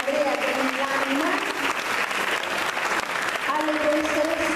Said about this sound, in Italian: E un applauso grandissimo veramente ai veterani del laboratorio, ad Andrea Grandilanima,